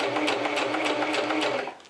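A sewing machine runs steadily, stitching a half-inch hem in a continuous close whir with a rapid rhythmic needle pulse, then slows and winds down near the end.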